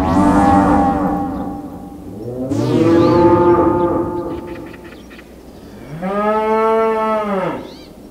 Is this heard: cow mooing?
yes